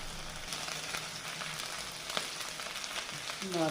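Garlic frying in a pan with chopped chilli and onion, a soft steady sizzle with a few light stirring clicks, fairly quiet and close.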